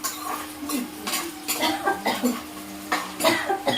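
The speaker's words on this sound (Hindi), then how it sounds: "खांसी आ रहा है, ठंडी छौंक रहे थे" Repeated dry coughs close by, mixed with clinking dishes and the scrape of utensils.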